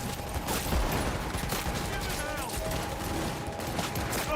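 Rapid automatic gunfire in the game Cyberpunk 2077, a sustained dense burst of shots at steady loudness, with a player speaking over the shooting.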